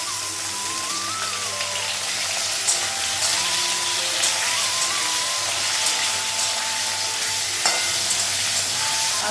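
Potatoes and tomatoes frying in a pan, giving a steady close sizzle with occasional soft stirring clatter and light utensil knocks throughout; no one speaks.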